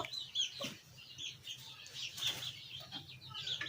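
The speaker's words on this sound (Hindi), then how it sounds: "ये मेरा जावा मुर्गा है" A white Java rooster gives soft, intermittent clucks with some wing-flapping, fairly faint and distant amid low outdoor background noise, with no talk.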